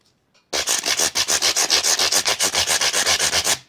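Sandpaper on a flexible rubber block rubbed over the frets of a Harley Benton ST-70 electric guitar, about twenty quick, even back-and-forth strokes after a short pause, loud and close with no talk.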